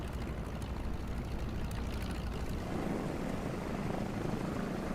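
A P-51A Reno race plane in a flight simulator game drones in a steady, broad engine roar that holds unbroken for several seconds, with no speech over it.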